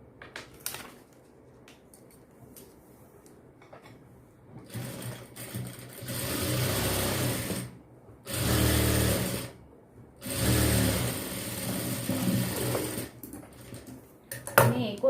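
Sewing machine stitching a fitting seam on a cross-cut blouse, running in three sustained bursts of rapid, even whirring, with quieter handling clicks between runs.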